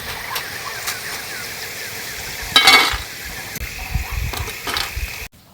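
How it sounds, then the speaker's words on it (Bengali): Wheat-flour moon biscuits frying in oil, a continuous soft sizzle with a few louder bubbling bursts and utensil touches, no talk. "বাকিগুলো ওইভাবে ভেজে নেব মনে হচ্ছে জুড়ে গেছে কিন্তু তেলের মধ্যে পড়লে ছেড়ে যাবে"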